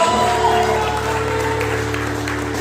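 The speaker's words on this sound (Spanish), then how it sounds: "Y denles el aplauso, por favor." Guests clapping at a quinceañera party, a steady spread of applause over sustained music or hum with tonal lines, fairly loud and continuous throughout.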